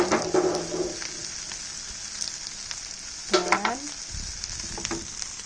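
Yellow burrhea (genjer) greens sizzle and crackle steadily while being stir-fried in a hot pan, a continuous close frying hiss with occasional scraping stirs and a brief clatter near the end.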